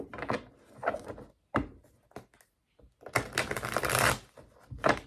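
Tarot cards shuffled on a table in several quick riffling bursts separated by short pauses, with a longer, denser flurry of card noise near the end; close and fairly quiet, no one speaking.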